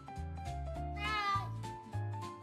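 A cartoon cat in a children's moral story meows several times in a row, close and clear, the drawn-out mewing cries sitting over a soft musical background.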